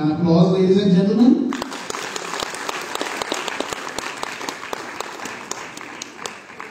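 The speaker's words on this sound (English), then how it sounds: "an applause, ladies and gentlemen." Audience applause at a school launch ceremony: after a few words from a speaker, a broad wave of clapping from many people takes over and continues steadily, gradually thinning toward the end.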